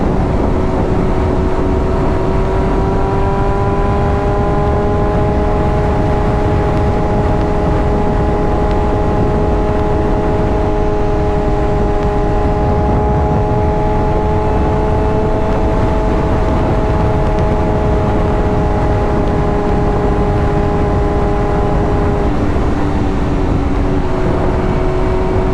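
BMW M1000RR motorcycle engine while riding, a steady sustained drone with smooth harmonic tones held at constant pitch, dipping slightly near the end, under continuous wind rush, loud and close, no talk.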